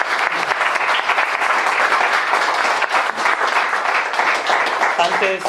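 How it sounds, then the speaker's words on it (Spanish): Loud, full audience applause for a seminar speaker, many hands clapping steadily and close, with a voice briefly starting to speak as it ends. "un aplauso a Daniel"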